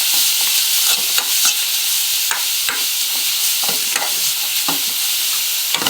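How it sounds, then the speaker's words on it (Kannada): Grated carrot fried in ghee for carrot halwa, stirred with a spoon so it scrapes and knocks against the pan at irregular moments over a constant close sizzle, with no talking. "ಈ ಕ್ಯಾರೆಟನ್ನು ತುರಿದಿರ್ತೀವಲ್ಲ ಅದನ್ನು ಹಾಕೋಣ. ಅದನ್ನು ಹಾಕಿ ಉರಿಯೋಣ"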